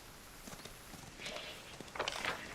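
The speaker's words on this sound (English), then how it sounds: "I am going to ride my horse." Horse hooves clip-clop faintly in Pathfinder: Wrath of the Righteous as a horse is ridden. A few quick, light, irregular clops sound quiet and slightly distant.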